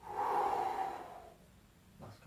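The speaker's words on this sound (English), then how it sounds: "Breathe in." A person takes a deep, audible breath during a home stretching workout for back, shoulder and plantar fasciitis pain, a long airy inhale that fades out, followed by a brief second breath.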